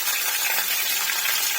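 Winter vegetables stirred in a pan with a little oil, salt and turmeric, a continuous soft sizzle and scraping hiss, close and steady without speech.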